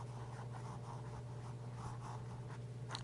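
A fountain pen with a 1.0 stub nib scratches across paper in a steady run of soft, close strokes, alone with no talking, under a constant low hum.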